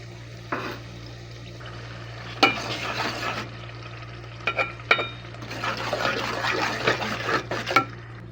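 Intermittent scraping and sizzling from a pan as ginger garlic paste is stirred, with bursts of frying crackle over a steady low hum.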